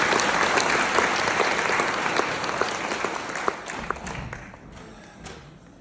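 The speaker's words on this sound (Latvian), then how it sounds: "Aplaus Edgaram!" Audience applause for Edgars at the Dzīves Virsotnes Spēka conference in 2025, a dense roomful of clapping that slowly thins out, with a few sharp individual claps standing out near the end.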